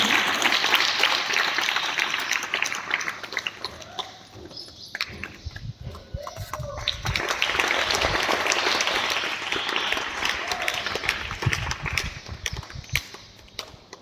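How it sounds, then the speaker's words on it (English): Children give long applause at an International Day of Yoga event, a sustained, crackling wave of many small hands clapping that dips briefly and then swells again. "A long clap, children."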